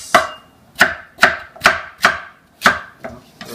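A knife roughly chops washed, unpeeled carrots on a board, seven sharp, evenly spaced thuds about one per second, close and crisp with quiet between strikes.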